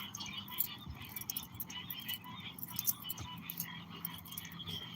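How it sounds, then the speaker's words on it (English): Frogs croak at night in a busy, continuous chorus of rapid overlapping calls, faint and somewhat distant, with no one talking over them. "Y'all hear the frogs?"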